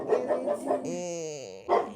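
A dog gives a quick series of short barks, then a drawn-out whine, then another bark, close and fairly quiet indoors.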